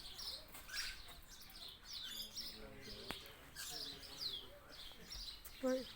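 King parrots call repeatedly over several seconds, a run of clear chirps and whistled notes at varying distances, with quiet human talk in the background.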